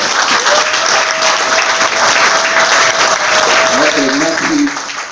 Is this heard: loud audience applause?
yes